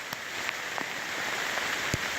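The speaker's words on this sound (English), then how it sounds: "here I find myself in a monsoon flipping downpour" Heavy monsoon rain pours down in a steady, dense hiss outdoors, with scattered louder drops and splashes standing out now and then.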